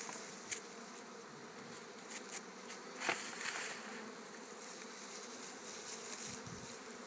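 Honeybees hum steadily at a beehive during a hive treatment, a dense continuous buzz with occasional individual bees passing closer, and no speech.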